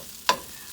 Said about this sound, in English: in addition to the chopping that I'm doing with the spatula to separate the rice